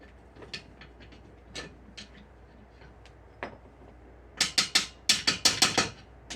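Scattered metallic taps, then a fast run of sharp, loud hammer strikes drive a universal joint cap out of the front drive shaft of a 2000 Suburban, close and ringing.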